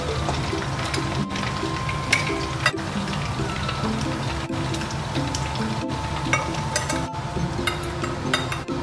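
Chicken pieces deep-frying in hot oil in a pan, a steady dense crackling sizzle throughout with occasional sharper pops and a light clink or two, close and continuous.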